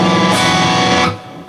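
A single loud, distorted electric guitar chord is strummed once. It rings for about a second, then cuts off sharply.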